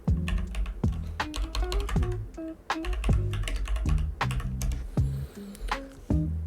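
A keyboard is typed on while entering a search into a browser bar, a close, steady run of distinct key presses with no talking.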